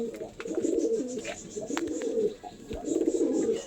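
Pigeons at a home loft coo in soft, throaty rolling phrases, three bursts close by with brief gaps between them.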